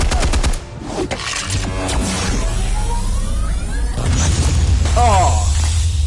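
Rapid gunfire bursts in the Telltale Batman video game, loud and dense at the start, then booming impacts and action noise with a voice heard over the mix.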